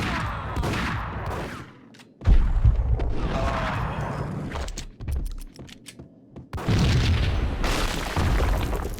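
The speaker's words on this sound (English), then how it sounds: "I thought it was a bomb for sure." Booming blasts and crashing bursts from Max Payne on PC, loud heavy impacts separated by brief quiet gaps, with scattered pops and rumbling debris between them.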